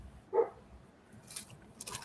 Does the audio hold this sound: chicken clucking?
no